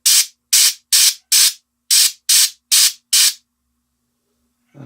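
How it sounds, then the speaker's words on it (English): A spray can fires eight short, sharp hissing bursts in quick rhythm at a miniature turtle figure, then goes quiet, ending with a faint low sound. "I think I'm going to spray back into"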